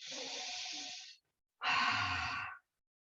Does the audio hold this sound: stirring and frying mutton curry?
no